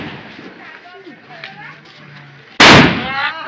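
A sutli bomb firecracker bursts in someone's hand during Diwali celebrations: a single sudden, very loud blast near the end, after a stretch of background murmur and low voices.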